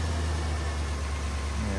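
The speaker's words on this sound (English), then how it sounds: "All right, fired up, no problem, which we expected. See if smoke comes out of anywhere with it just idling." A Honda or Chevy car engine idling after being started, a steady low rumble that fills the short stretch evenly, close by.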